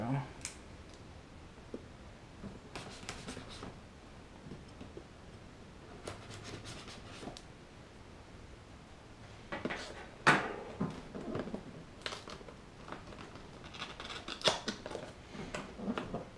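Tape being peeled and torn off a DJI Phantom 2 Vision+ drone box, heard as scattered quiet rips, clicks and crinkles near the mic in a fairly quiet room.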